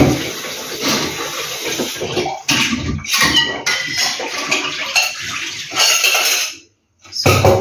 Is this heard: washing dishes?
yes